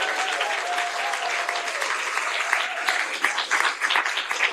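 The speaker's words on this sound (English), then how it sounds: "Let's give them a round of applause" Steady applause from the audience at a Cocoa, Florida city council meeting honoring the Lady Tigers athletes, dense clapping sustained throughout at moderate loudness, with a faint tone early on.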